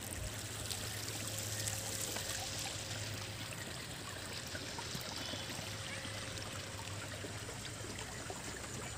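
The Ulhas river flows steadily with a soft, even rushing and trickling, continuous and fairly faint, with no voices.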